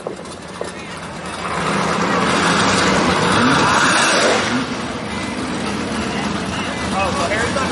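Pontiac Firebird super stock drag race car with big tires at a drag strip, its engine revving loudly and swelling to a peak before easing to a steady roar, while an announcer speaks over the track PA.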